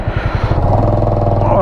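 A motorcycle being ridden on a road toward the Nepal border, its engine chugging in a steady rhythmic thrum close by and loud, with a voice talking over it.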